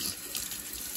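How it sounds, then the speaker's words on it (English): Warm water runs steadily from a sink tap over a Rancilio Rocky grinder part being rinsed, a continuous hissing splash at close range. "Nice warm water."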